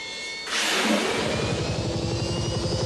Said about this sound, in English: the helicopter sounds over the Canon logo are back